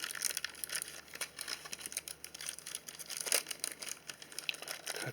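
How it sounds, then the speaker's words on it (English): Crinkly plastic packaging is handled and torn open to take out machined aluminium RC crawler steering knuckles for an SCX10, giving close, quiet crackling and rustling bursts throughout. "Get them out of this package here and get a better look at them."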